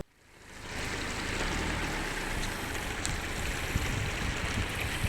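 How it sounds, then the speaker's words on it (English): A creek flowing across a road at Natural Falls State Park in Oklahoma, a steady, loud rushing wash of water that swells in within the first second and holds constant. "here's the creek that went across the road"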